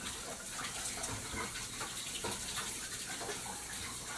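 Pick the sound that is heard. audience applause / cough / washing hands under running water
washing hands under running water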